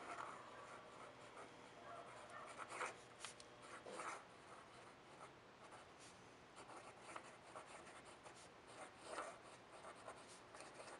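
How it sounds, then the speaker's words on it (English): A Namiki Pilot Falcon fountain pen nib scratches across paper in short, close strokes with soft pauses between words, a quiet, slightly scratchy rubbing and no talking. "you can kind of hear that there's still a little bit of scratchiness in the nib"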